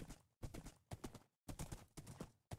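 Horse hooves clip-clop in Minecraft while riding toward a cave entrance on a zombie apocalypse map, a steady run of close, loud hoof clatters in quick bursts with brief gaps between them.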